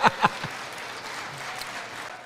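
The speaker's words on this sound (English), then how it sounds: "The Democrats are clapping for it." Democratic lawmakers at the State of the Union applaud in a brief, moderate burst of clapping from a crowd, heard at a distance and soon fading into a low room murmur.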